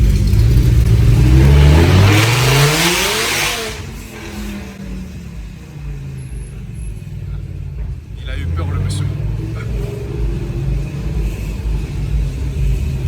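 A naturally aspirated V10 car engine revs hard, its pitch climbing loudly before dropping off. People talk, and a second, softer rev rises afterward.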